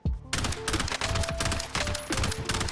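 Bursts of automatic weapon fire in Warzone, several rapid volleys of shots separated by short pauses, loud and close, with no talking over them.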